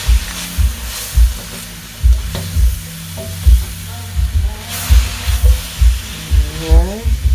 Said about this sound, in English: Let that saute for a minute.